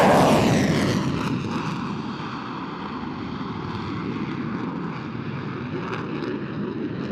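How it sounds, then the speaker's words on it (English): A military jet sweeps past at 500 knots and about 500 feet for a carrier break at an air show, a loud roaring rush that peaks early then fades into a steady distant drone. "Watch him as he comes back in now for the carrier brake, 500 feet and 500 knots, or 575 miles per hour."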